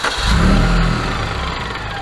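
A supercharged Suzuki Swift engine on a dynamometer fires up with a surge of revs, then settles into a loud, steady idle close by.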